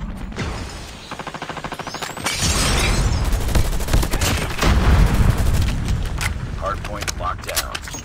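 Bursts of enemy gunfire and mechanical clatter fill a multiplayer shooter match, with a fast rattling volley early on and then dense, loud, continuous combat noise. Game voices come in toward the end.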